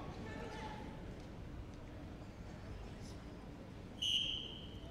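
A handler's whistle directs a working trials dog during a dog activities display at Crufts 2015: one short, shrill blast near the end over steady crowd and arena noise.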